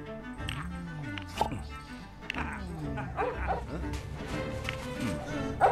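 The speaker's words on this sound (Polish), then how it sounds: "Pieska" A dog barks and yips in the Lego Pirates of the Caribbean video game, short repeated barks mixed in with game music and effects, with someone talking over them.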